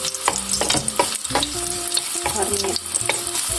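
Garlic and chili pepper sizzle in hot oil for a pasta dish, a steady close frying hiss with scraping stirs and clinks of a utensil against the pan, no voices.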